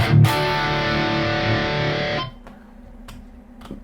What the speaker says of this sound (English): I need to find a rhythm distortion that is heavy. So I'm gonna go with the EV Modern.